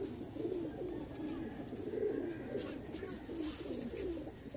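A pair of Salara teddy pigeons coo softly and repeatedly over a faint, steady background murmur, close but quiet.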